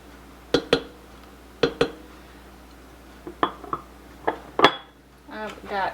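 Ingredients such as onions, sun-dried tomatoes and sausage drop into a ceramic crock pot, producing sharp clinks and clatters of utensils and containers in separate bursts, with brief rustling near the end.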